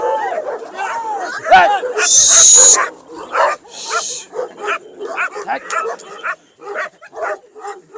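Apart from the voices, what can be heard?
dogs barking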